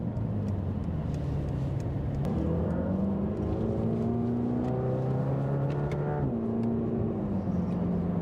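A Mercedes-AMG GT Black Series engine hums and rises in pitch as it accelerates through gears, its exhaust note dull and subdued by particulate filters, heard steadily from inside.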